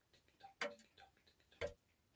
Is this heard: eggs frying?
no